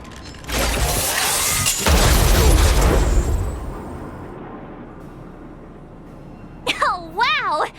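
Stealth bomb blast in Honkai Star Rail: a loud, booming explosion with rumbling crackle lasting a couple of seconds and slowly fading, followed later by short chirpy game voice sounds.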